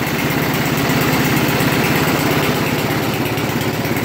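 The small engine of an Ariens Deluxe 28 snowblower runs steadily at a fast idle, a loud, close, even chugging drone with no pauses.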